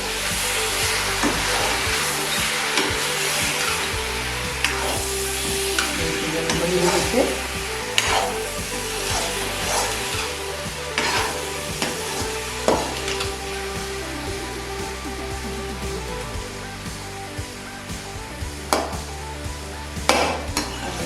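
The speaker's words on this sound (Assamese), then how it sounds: "লৰাই দিওঁ।" Jackfruit curry sizzles and fries in a pan while being stirred steadily, with repeated scraping and clinking of the utensil against the metal over a constant loud frying hiss.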